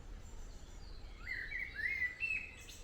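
Birds chirp and sing in Haden Hill Park, with a few clear, bright calls close by over a quiet background and no talk.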